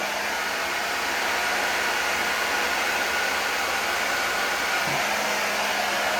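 A hair dryer blows long curly hair with a constant, loud, close whoosh that stays even throughout, with no talking.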